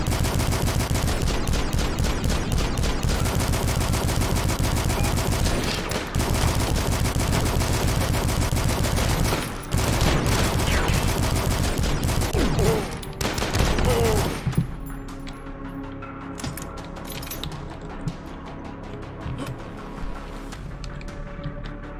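Turrets in the first-person shooter game Dusk fire a dense, continuous barrage of rapid gunshots that stays loud for most of the stretch, then drops away to a quieter background of scattered shots and game ambience.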